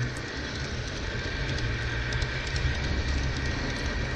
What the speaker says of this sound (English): the locomotive could successfully go down the driveway and make the curve onto the sidewalk